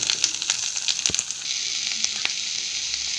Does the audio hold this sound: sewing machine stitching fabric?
no